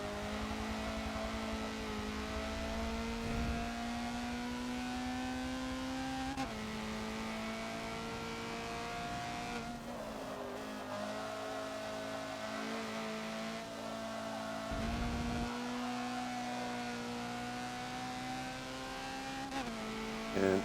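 Honda CRX lapping Mugello in a Forza racing game, engine holding a steady high drone with repeated upshifts and brief lifts into corners, a few short tire squeals, continuous and close.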